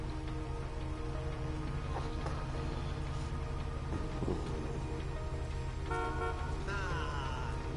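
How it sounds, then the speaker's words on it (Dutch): A car horn honks in a GTA 5 game session, a few short toots partly buried in a steady wash of rain and engine noise. "Oh, sorry hoor, hij zit te toeteren."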